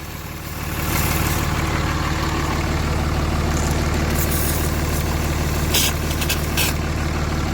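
A truck with a swapped high-output Cummins diesel idles close by, a loud steady low rumble that rises after a moment and then holds evenly, with a few faint clicks on top.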